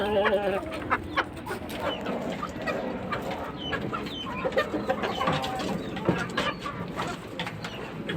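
Kanaway gamefowl hen clucking among other fowl, steady close clucks and coos over a dense farmyard bird chorus, continuous throughout with no talk.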